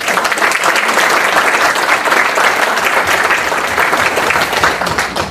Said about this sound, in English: join me in giving our candidates a round of applause